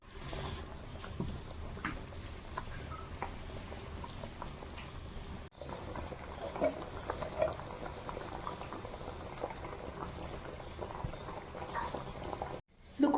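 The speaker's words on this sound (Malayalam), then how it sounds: "ഇവിടെ നന്നായിട്ട് തിളച്ച് വരുന്നുണ്ട്" Koori fish curry, a roasted-coconut sea-catfish dish, bubbling in a pot over a low flame. A soft, continuous burble with scattered pops sits at low level under a quiet background, with a brief dropout partway through and a louder thump at the end.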